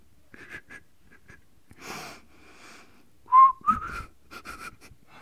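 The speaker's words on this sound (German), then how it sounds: "Ich kann nicht mehr pfeifen." Short, breathy whistled notes sound in scattered bursts, a few wavering and sliding in pitch, with pauses and soft breaths between them.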